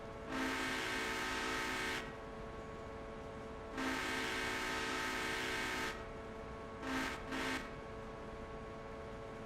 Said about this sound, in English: Just playing around a little bit with the whistle.